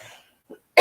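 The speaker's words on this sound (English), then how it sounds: "I've been coughing all day" A single sharp cough from a person with a cold and sinus infection bursts out at the end after a brief quiet pause and a small faint noise, close and loud.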